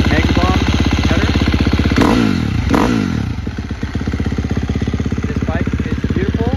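A 2017 KTM 350 SXF dirt bike fitted with an FMF full exhaust and Megabomb header idles with a loud, close, rapid thumping beat, briefly blipped midway with rising revs before settling back.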